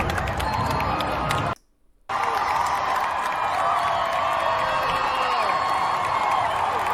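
Large arena crowd of over ten thousand fans cheering for Caitlin Clark's first-round draft pick, a loud continuous roar of voices with a brief gap of silence, then the dense cheering resumes steadily.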